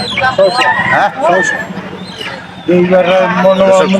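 Chickens cluck and squawk amid a busy traditional village market in Bangladesh, with people bargaining loudly over the birds throughout.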